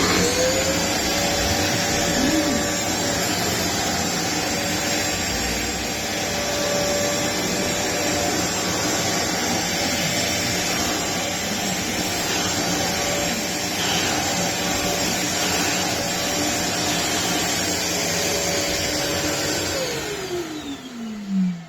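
Parkside PWD 30 C1 shop vacuum running loud and steady as a continuous whine and airflow roar, winding down near the end with a falling pitch.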